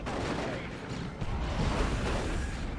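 Shotgun fire rings out in a Dawn of War 2 multiplayer battle, a dense, continuous barrage of blasts and booms with no clear gaps, loud and layered with general combat noise.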